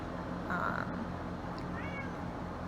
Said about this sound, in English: there goes my cat meowing